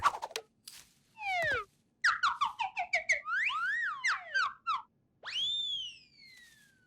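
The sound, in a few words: funny whistling sounds from a cartoon character's device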